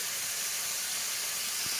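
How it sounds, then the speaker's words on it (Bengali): Steady broadband hiss of potato and vegetable curry frying in a pan in a home kitchen, an even sizzle with no breaks. "তরকারিটা আমি বসিয়েছি সবে ফ্রাই হচ্ছে"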